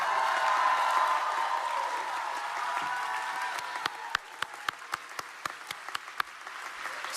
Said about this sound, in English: ask the senior class to rise and to greet in thanks, salute and applaud your faculty